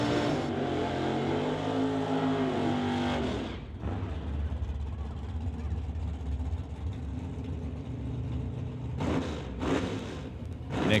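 A car in a no-box drag race, part of an NHRA Summit ET bracket series, makes a sustained engine roar that climbs in pitch, drops off, then surges back near the end, with an announcer talking over it.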